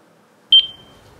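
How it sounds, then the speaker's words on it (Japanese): A short electronic phone ringtone chirps once, two quick bright beeps merging into a sustained tone that fades out in a quiet room, with no talk over it. "あ、電話だ。"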